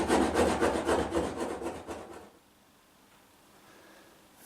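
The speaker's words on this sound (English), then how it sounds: "Get back to scraping." Rapid rhythmic rasping as a scraper works over the wooden bottom of a boat, about a dozen close strokes for two seconds, then near silence.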